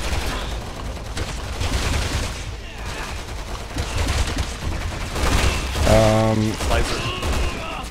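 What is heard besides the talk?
assault rifle gunfire in Resident Evil 6 video game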